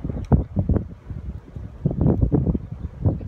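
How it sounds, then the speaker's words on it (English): Strong wind gusts shaking a screen door outdoors during a lightning storm: loud, uneven bursts of rumbling, buffeting noise rising and falling close to the microphone, with no voices. "It's so windy out here. It's making the screen door shake."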